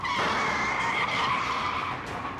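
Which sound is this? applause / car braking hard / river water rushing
car braking hard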